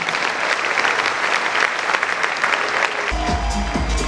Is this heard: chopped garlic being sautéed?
no